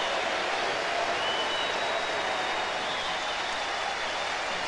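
Stadium crowd at a Hawaii Warriors college football game against Cincinnati rises and applauds injured quarterback Timmy Chang, a steady, dense roar of clapping and cheering that fills the whole stretch without a break.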